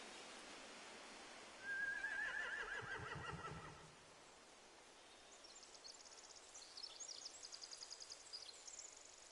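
Horses neighing in The Walking Dead video game, one loud whinny followed by fainter, higher calls from farther off over a steady low background hiss, no talk.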